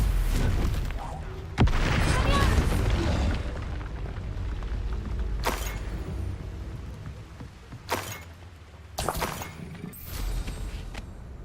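Confringo fire spell explosions in the Hogwarts Legacy video game, a loud booming blast early on followed by several more sharp bursts and rumbles, with a voice calling out in game.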